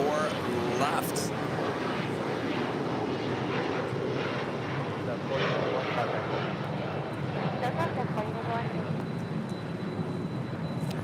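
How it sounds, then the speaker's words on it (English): A Korean Air airliner on short final approach to runway 24 left makes a steady, broad engine roar that holds at an even level throughout. Voices talk over it and under it at intervals. "As Korean Air Flight 11 now in the short final for"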